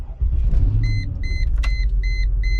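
A Mercedes ML55 AMG SUV with a Bosch ME 2.0 engine ECU gives a low, steady engine rumble from inside the cabin, overlaid by a repeating electronic warning chime in evenly spaced bursts.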